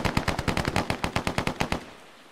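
Automatic gunfire in the Arma military video game: a rapid burst of about fifteen evenly spaced, loud shots lasting under two seconds, then a fading echo tail.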